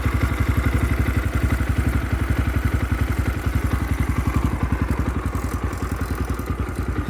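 A 2022 X-Pro 250cc motorcycle with a Nibbi carburetor idles close by after carburetor tuning, a steady, fast even putter of single-cylinder firing pulses with a light mechanical clatter, running alone without talk.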